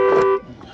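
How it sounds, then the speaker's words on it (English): An alarm blares loud and steady for a moment outdoors during a German Shorthaired Pointer puppy training day, a harmonic electronic tone that cuts off sharply, leaving faint background noise. "Did I set the alarm off?"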